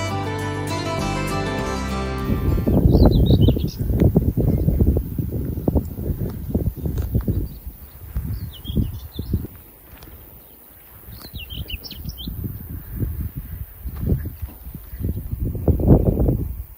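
Small birds chirp in short, scattered bursts across a quiet English countryside afternoon in the Cotswolds, faint and somewhat distant over low rustling, wind and footsteps.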